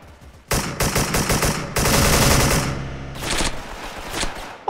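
An AK rifle fires long, loud automatic bursts in the online shooter game Special Force, with brief gaps between volleys.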